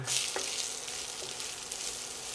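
Garlic sizzling in hot oil in a pan for Rajasthani-style methi sabzi, a steady close crackle with a brief stir scrape.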